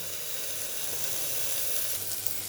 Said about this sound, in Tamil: அடுத்து இஞ்சி பூண்டு பேஸ்ட்டை போட்டு இதுவும் பச்சை வாசனை போக நல்லா வதக்கிக்கலாம்